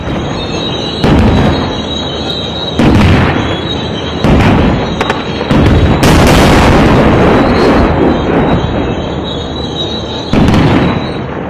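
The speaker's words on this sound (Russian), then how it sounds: "Боевики стреляют из гранатометов и орудий." Loud, heavy blasts of grenade launcher and artillery fire boom repeatedly at irregular intervals in Al Kabun, Syria, each followed by a long rumbling roar, with continuous noise in between.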